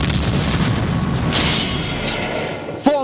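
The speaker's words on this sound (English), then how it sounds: "That's why sonic booms go bada..." Sonic boom from an aircraft breaking the sound barrier: a sustained, loud, rumbling blast that rolls on for several seconds, with a brief sharper burst near the end.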